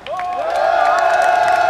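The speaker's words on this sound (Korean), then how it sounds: "동의하시면 힘차게 환호와 박수 부탁드립니다" Crowd at an outdoor election campaign rally for candidate Kwon Young-guk cheering loudly, a rising shouted voice leading into a sustained roar of cheers with some clapping, close and steady.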